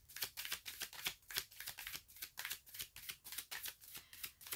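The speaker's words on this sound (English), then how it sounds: "let's just kind of start by shuffling cards and see what you get" Tarot cards being shuffled by hand, a steady run of crisp riffling flicks and soft slaps repeating at a quick, even rhythm, close and fairly quiet with no voices.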